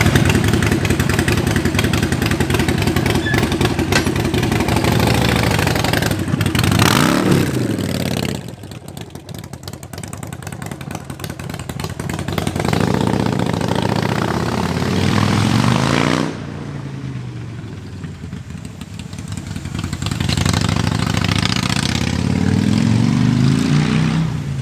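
A loud motorcycle engine revving nearby, its pitch rising and falling in repeated surges with short dips between them, strong and close throughout with no talking.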